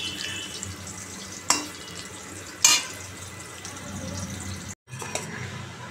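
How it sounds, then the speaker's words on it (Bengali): Brinjal slices fry in a pan with a steady, soft hiss. Two sharp clicks break through near the middle, and the sound drops out briefly before the sizzle returns. "তো বেগুন ভাজাটা হয়ে গেল"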